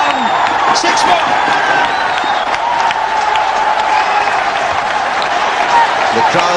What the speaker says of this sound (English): The crowds are overjoyed.